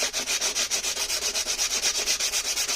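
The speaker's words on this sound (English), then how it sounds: "But that's why we have sandpaper." Hand sandpaper rubbing out tear-out on the wood of a handmade mandocello: fast, even back-and-forth scratchy strokes, about five per second, close and continuous, with no voices.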